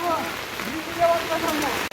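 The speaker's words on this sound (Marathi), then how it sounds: "जोरात पाऊस आला आहे बघा जबरदस्त असा पाऊस आलाय" Steady heavy rain hisses and patters throughout, with a voice talking over it.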